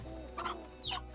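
Hens in the farming video game Slime Rancher cluck in a few short, close bursts, heard alone with no talk.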